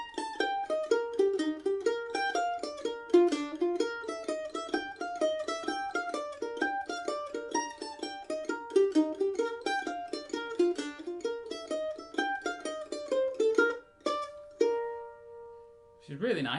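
Mandolin playing the B part of President Garfield's Hornpipe in a lilting hornpipe feel: fast, bright picked arpeggio runs in a continuous stream, then a pause and a few ringing final notes, close and solo.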